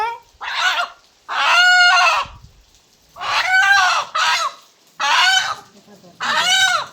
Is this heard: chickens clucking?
yes